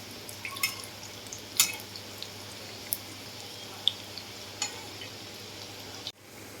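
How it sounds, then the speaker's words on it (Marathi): Kothimbir vadi, a gram-flour and coriander fritter, shallow-frying in a pan after being turned to its other side: a steady, soft sizzle with scattered small pops and crackles of oil, fairly quiet and with no talk. "आता थोडंसं परतून घ्या दुसऱ्या बाजूने"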